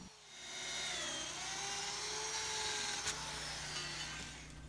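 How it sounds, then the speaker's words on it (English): A power drill whines steadily as it bores bolt holes through wood near floor joists, its pitch rising and falling slightly, with a short knock partway through. "So now we'll drill the holes for the 2 lower bolts."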